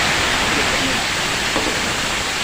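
Onion, ginger, green chilli and garlic sizzle loudly in hot coconut oil for a Kerala chicken roast, giving a steady close hiss of frying with no break.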